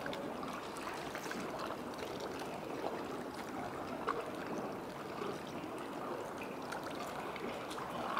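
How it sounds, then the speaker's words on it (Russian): Quiet lapping of Neva river water against stone steps on a Saint Petersburg embankment, soft continuous sloshing with small splashes, faint and close. "откуда вода шлюпает? Вот она, об ступеньки."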